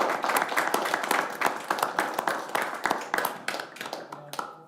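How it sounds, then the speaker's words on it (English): An audience at a city council candidates night gives a round of applause for the youth council, with many hands clapping in a steady close patter that thins out and fades toward the end. "Let's give a round of applause to our youth council for moderating here tonight."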